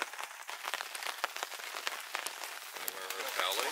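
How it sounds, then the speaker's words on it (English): Steady rain patters on a hard surface at a canoe camp on Bates Lake, with individual drops tapping sharply and irregularly close by over a constant wash of rainfall. "And as you can see, it's still raining out there."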